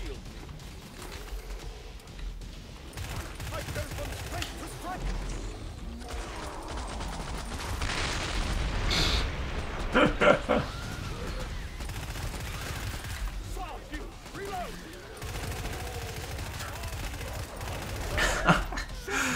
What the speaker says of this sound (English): this weapon is great for hip firing because the fire rounds, they're like tracer bullets